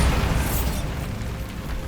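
The Bombarda blasting spell from Hogwarts Legacy detonates with a loud burst of noise in the opening moment, then a booming rumble that lingers and gradually thins out. No one speaks.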